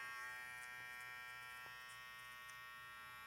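A T-Shaper rechargeable hair trimmer runs steadily with a close, continuous electric buzz and a stable whine, humming alone with no talking.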